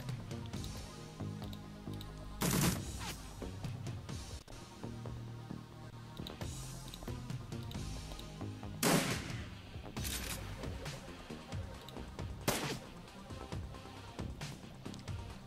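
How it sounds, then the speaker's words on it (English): Gunfire in the turn-based game Shadowrun Returns: several sharp, separate shot bursts spaced seconds apart over a quiet musical background, fairly faint overall. "I think we just continue shooting."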